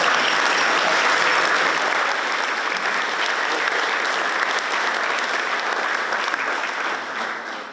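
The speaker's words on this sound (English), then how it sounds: "I think that alone deserves a huge round of applause." A crowd at a Melbourne Football Club AFLW best and fairest awards night gives a long, full round of applause, loud and even before gradually tapering off.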